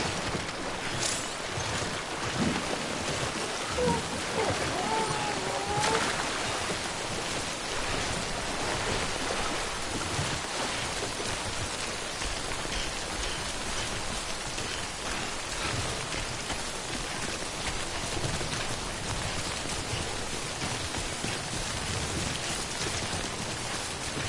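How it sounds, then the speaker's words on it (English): Continuous rainfall in a video game, an even hiss of drops pattering on surfaces, steady and enveloping for the whole stretch with no voices. "Don't stay out in the rain any longer than you have to."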